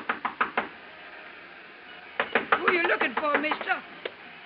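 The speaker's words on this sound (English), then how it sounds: "I stopped in front of room 300 and knocked." Knuckles rapping on a hotel room door in an old-time radio suspense drama: a quick burst of four sharp knocks, a pause, then another run of knocks mixed with a voice talking.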